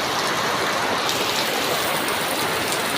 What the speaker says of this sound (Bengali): সকালবেলা তো দেখি অনেক বৃষ্টি।